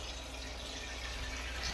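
Water poured or running into a cooking pot while making sate Padang, a steady soft splashing trickle that stays faint and even for under two seconds with no talking.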